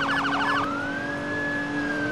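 Police car siren in the Roblox ERLC game, a loud electronic wail that starts with a quick yelp and then settles into a long sustained rising tone over steady background noise.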